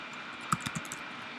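A few quick keystrokes on a computer keyboard while writing Java code, faint and close, a short burst of clicks in the middle of an otherwise quiet room.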